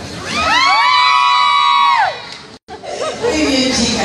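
A group of female fans at a live radio event lets out a loud, high-pitched collective scream for about two seconds, followed by a brief pause and then excited chatter and cheering.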